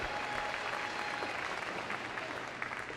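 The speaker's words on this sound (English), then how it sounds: "give her a round of applause" Audience applauding steadily in a large arena at the Crufts dog agility show, a dense sustained clatter of clapping from a big crowd.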